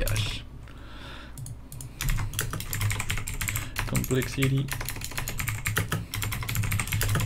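Rapid clicking on a computer keyboard during a Dota 2 match commentary, dense irregular keystrokes running throughout under a low hum, with a voice speaking briefly over them.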